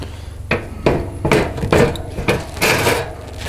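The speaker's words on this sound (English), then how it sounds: "Let's get our grate back on here." A metal grill grate lowered back onto a grill for cooking steak, giving several sharp clanks and knocks spread over a few seconds, close and fairly loud with no talking.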